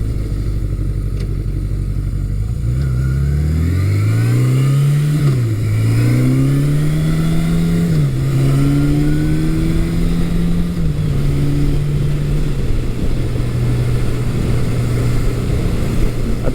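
A 1982 Suzuki GS750E motorcycle, ridden on a test ride after electrical work, pulls through gears with rising engine pitch and shifts, amid heavy wind rush, slight misfire around 4,000 RPM.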